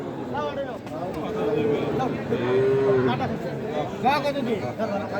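Cattle low and moo at a busy livestock market selling young heifers, two long moos standing out over steady crowd chatter and nearby speech.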